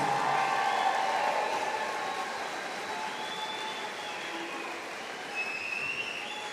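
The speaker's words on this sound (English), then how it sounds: "Can I get a round of applause for your 2025 Carpenter High School graduates?" Sustained applause from a large crowd at a high school graduation ceremony, a dense wash of clapping with faint cheers mixed in, steady and slightly distant.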